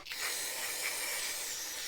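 A steady aerosol hiss of carburetor cleaner sprayed onto a snowblower carburetor, continuous at close range for a couple of seconds, with no voices.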